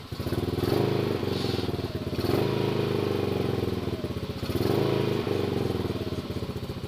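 A warmed-up 150cc scooter engine idles close by with a rapid, uneven putter and clatter, gently rising and falling in loudness in slow waves, with no speech.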